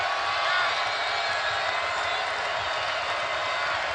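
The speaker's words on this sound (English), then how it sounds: "Crowd trying to help the Wildcats to a much-needed stop here." Basketball arena crowd at an NCAA men's game, UCLA at Arizona, roaring steadily in support of the Wildcats' defense, a dense sustained wash of cheering and shouting with no breaks.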